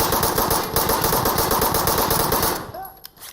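Loud, rapid automatic gunfire rattles in sustained bursts in the video game Insurgency: Sandstorm, then cuts off near the end as faint game sounds follow.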